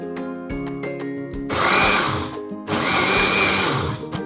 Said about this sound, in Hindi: ये अंडे जो हैं ये आप इसमें डालेंगे। इसके बाद आपने ये जो चीनी ये भी आपने इसमें डाल देनी है और 1 मिनट के लिए इसको ब्लेंड करना है।